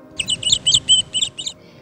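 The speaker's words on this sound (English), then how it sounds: "The sun was mild and the birds whispered life." Birds chirp in a quick series of about eight bright, evenly spaced tweets used as a storytelling sound effect, clear and close over a low background murmur.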